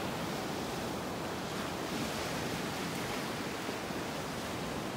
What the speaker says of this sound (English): A little bit of wave action.